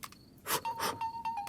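A mobile phone ringtone plays indoors in a dubbed Hindi romantic comedy scene, a steady tone near 1 kHz sounding in short repeated pulses and broken by louder bursts of movement or noise.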